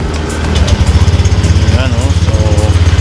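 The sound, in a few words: Honda Click 125i scooter engine starting and running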